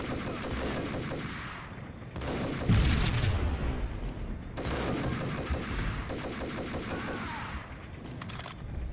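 Max Payne video game gunfire in bursts, dense rapid shots and booming blasts crowding two long volleys with a short gap between, loud and close with no talk.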